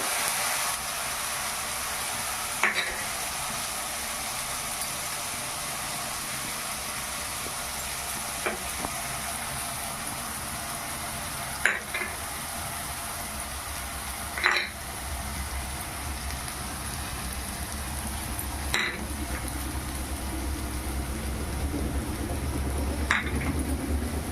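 Banana flower and shrimp curry with onion, ginger, garlic paste and spices stirred in hot oil in a wok-style pan: a steady close sizzle throughout, broken every few seconds by sharp clinks and scrapes of the spatula against the pan, with no talking.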